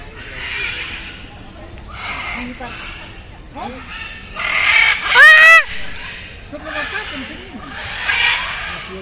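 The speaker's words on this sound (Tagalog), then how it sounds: "Yan tunog ng parot" Parrots calling at a bird sanctuary in Colombia: a series of loud, harsh, honking squawks of varied pitch, with a sharper cluster midway, heard close over outdoor background and some human voice.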